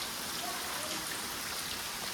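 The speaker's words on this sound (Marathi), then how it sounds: "लय बेकार पाऊस होतो आहे" Heavy rain pours down in a dense, steady hiss, drops pattering continuously with no other sounds.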